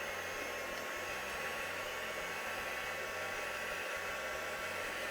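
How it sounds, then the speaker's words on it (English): A heat gun blows hot air to dry ink on gloss card, a loud continuous whooshing roar with a steady hum that holds unchanged throughout, no talking over it. "So let's get our heat gun out and start drying."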